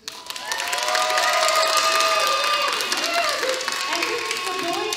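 Children at a Vacation Bible School evening erupt into loud cheering, yelling and clapping, a dense crowd roar that starts abruptly and holds steady to the end.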